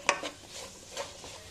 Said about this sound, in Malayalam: ഇത് ചെറുതായി വഴറ്റിയെടുക്കാം.